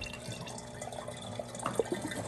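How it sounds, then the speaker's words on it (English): Water trickles and drips faintly as a miniature, fully functional toilet flushes, with small gurgles and bubbly drops rising toward the end and no talking. "so you can see what the tank components do when the toilet is flushed"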